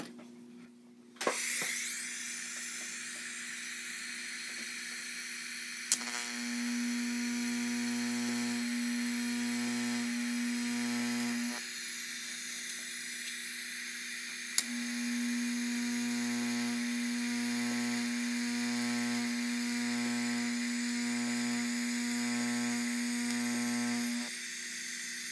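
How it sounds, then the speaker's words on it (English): Bearing cups are welded onto anti-roll bar tabs for a Nova drag race chassis, producing a steady, close electrical buzzing hum in two long runs with a faintly pulsing rhythm. A brief sharp click comes before each run. "And also want to weld the those bearing cups on nice and evenly."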